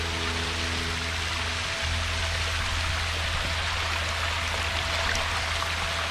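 Waterfall runoff from a natural spring, Clearwater Spring, pouring in a steady, close, even rush of water with a low hum underneath.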